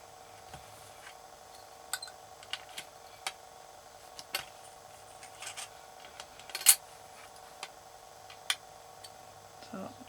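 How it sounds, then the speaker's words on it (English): Faint, distant knocks tap out at irregular intervals over a steady low hum, like someone hammering a few rooms away; no one speaks. "sorry if you can hear my neighbours doing some DIY, hammering in the background"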